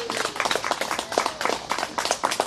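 An audience claps at a first-anniversary celebration after a magic trick, a brisk, close burst of many hands in uneven rhythm filling the whole short stretch.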